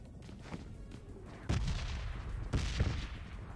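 Red zone bombs explode in PUBG Mobile on the Miramar map: two heavy, rumbling booms a second apart, the second followed by another blast, rolling out over a steady noisy battlefield backdrop.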